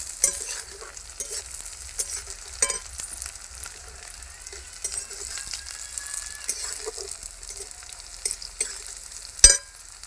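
Chopped ginger and green chillies frying in oil for a Bengali tilapia curry, with a continuous soft crackling sizzle and occasional clinks and scrapes of stirring, one sharper knock near the end.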